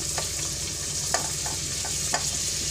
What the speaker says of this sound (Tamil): இப்போ இங்கே எண்ணெய் காஞ்சிச்சு வெங்காயம் இந்த ரெண்டு பச்சை மிளகா தக்காளி எல்லாத்தையும் நான் போட்டுடுறேன் நல்லா வதங்கட்டும்